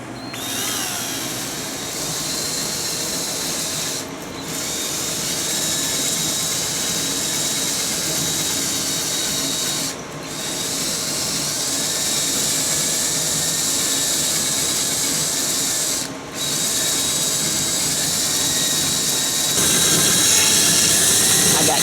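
A power sander works around the rivets on an aluminum Bass Tracker boat hull, giving a loud, steady whine that runs almost without a break and dips briefly a few times as the tool is repositioned.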